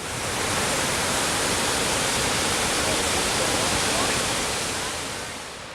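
Godafoss, a glacier-fed waterfall in Iceland, roars as a steady, loud, broadband rush that holds constant throughout, with no voices over it.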